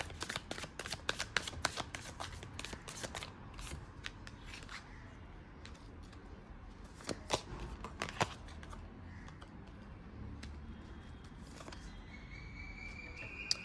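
Tarot cards are picked up and handled, giving soft close-up shuffles, slides and flicks scattered in irregular bursts over a faint quiet background, with no talking.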